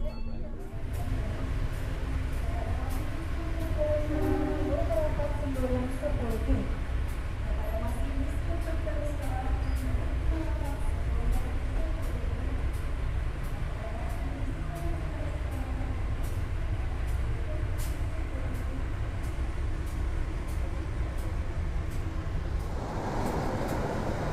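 The Argo Muria passenger train rumbles past on the Jakarta–Semarang line, a continuous loud roar with rhythmic wheel and carriage noise that holds steady before cutting off near the end.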